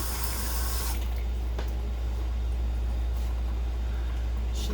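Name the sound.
water running from tap to wet a spatula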